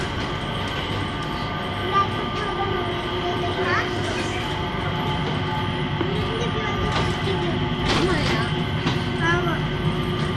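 An airport inter-terminal shuttle train at Singapore Changi Airport rumbles steadily along with a constant mechanical hum and faint rail noise, while people talk in the background throughout.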